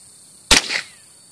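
A single sharp report from a Ruger 10/22 rifle fired at an outdoor target, close and loud, with a short ringing tail and no talk over it.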